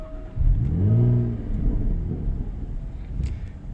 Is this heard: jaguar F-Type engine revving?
yes